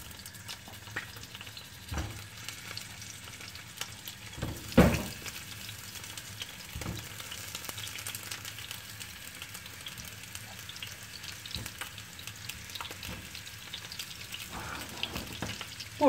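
Boiled potatoes fry in a little oil in a pan, producing a soft, steady sizzle with scattered pops and a few louder scraping stirs, fairly quiet and without speech.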